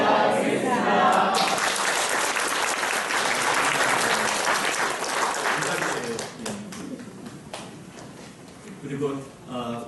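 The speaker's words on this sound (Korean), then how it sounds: "큰 박수 같이 하겠습니다" Applause fills a seminary entrance ceremony held in a church, with a large crowd clapping loudly for several seconds. The clapping then thins out, and voices speak over the fading claps.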